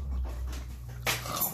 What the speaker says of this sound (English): That's how you give it to the dog.